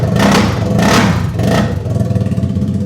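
A 2022 TVS Apache RR 310 motorcycle, BS6 version, revved hard in three sharp loud bursts, each rising then dropping back, followed by a rough, clattering idle.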